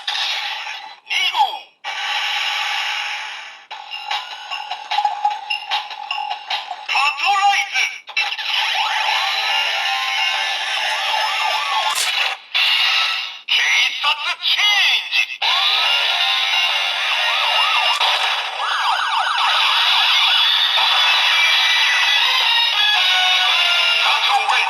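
A Lupinranger VS Changer toy trigger machine fires off a loud electronic attack effect, bright buzzing synth tones and bursts that play continuously near the microphone with almost no pauses.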